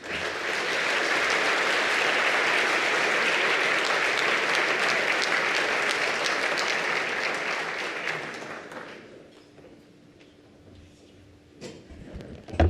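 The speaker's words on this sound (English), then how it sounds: "I just want to applaud every one of the honorees here" An audience gives the award honorees sustained, loud applause, which fades out near the end and is followed by a few faint knocks and near silence.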